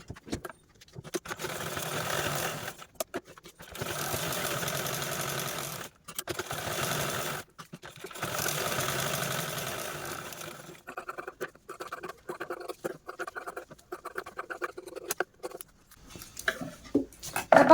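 A sewing machine stitches lining onto a piece of old saree lace, running in several steady bursts with short pauses between them, followed by lighter clicks and handling noises.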